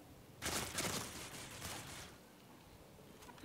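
Gunfire from the mobile shooter game Critical Ops comes as a quiet burst of rapid shots lasting about a second and a half, then trails off, with no talking over it.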